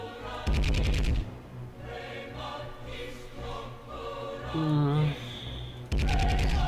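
Short bursts of gunfire open and close a stretch of Warhammer 40k: Chaos Gate, a loud rapid volley at the start and another at the end, with a voice and game sounds between them.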